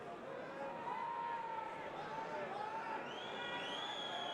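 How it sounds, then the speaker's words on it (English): A rugby crowd during a Dragons v Ulster match boos and whistles, with rising whistle tones over a low crowd murmur, faint and distant. "Bit of ill-natured booing and whistling."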